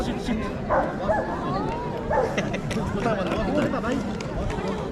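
A herding-breed dog barks repeatedly at a dog show, with yips mixed in, amid a busy outdoor crowd and people talking nearby.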